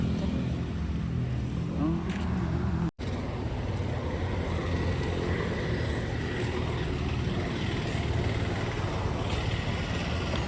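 A car with Karnataka KA01 registration rumbles steadily as it pulls away, a continuous low engine and road noise broken by one brief dropout, with faint voices in the background.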